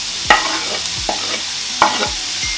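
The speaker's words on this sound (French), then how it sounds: "Du coup j'ai fait cuire mes champignons et mes pousses de soja et je vais ajouter les légumes." Mushrooms and bean sprouts are stir-fried with vegetables in a pan, giving a soft continuous sizzle broken by three or four sharp scraping stirs of a utensil against the pan.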